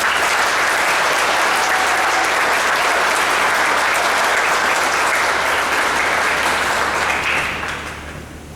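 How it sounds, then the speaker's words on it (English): An audience applauds the varsity band before a concert, a loud, full wash of clapping sustained for about seven seconds before tapering off. "Give them a round of applause."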